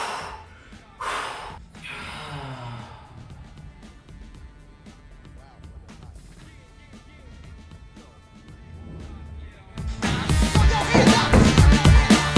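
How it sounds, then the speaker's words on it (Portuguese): Deep breaths drawn in and pushed out before a plank exercise during a home workout, a few audible inhales and exhales close to the microphone, growing louder and heavier near the end. "Fazer umas respiração antes."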